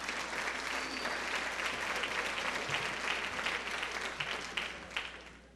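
A high school graduation audience at Parsippany High in June 2005 breaks into applause, a dense, steady burst of clapping heard from within the crowd for several seconds.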